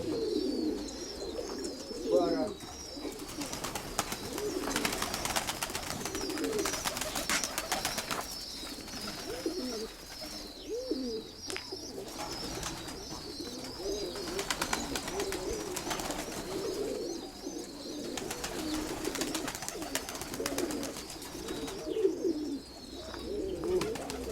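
Pigeons, including a coffee-coloured one, coo repeatedly nearby in low rolling calls, with other birds chirping and people talking at times.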